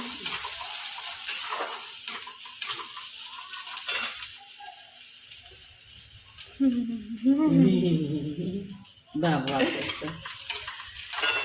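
Food fries in oil in a pan with a continuous sizzle, stirring scrapes and the clatter of utensils against the pot, while people talk intermittently over the cooking noise.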